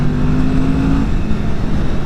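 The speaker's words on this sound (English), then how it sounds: "I'm noticing these Kawasaki bikes have very smooth, I guess, engines. Smooth acceleration." A 2020 Kawasaki Vulcan S motorcycle engine drones steadily under acceleration, a loud, close, smooth rumble mixed with rushing wind noise, no speech.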